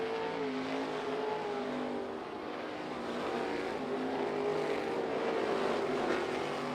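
Sprint cars race around Bubba Raceway Park in a steady engine drone, the roar rising and falling slightly as cars circle the track at a moderate distance.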